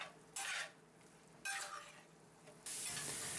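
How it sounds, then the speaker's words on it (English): Ground beef frying in a large cast iron skillet, faint and close: short bursts of spatula scraping and sizzling, then a steady hiss of frying toward the end. "We cook the ground beef until it's no longer pink"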